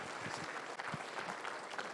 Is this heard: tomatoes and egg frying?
no